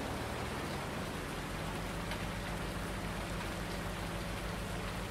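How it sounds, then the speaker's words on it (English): Steady rain falling in a Farming Simulator 19 game world on the Westbridge Hills map, a dense unbroken hiss of drops on surfaces running the whole stretch at an even level, with no voices. "There we go, and it is still raining."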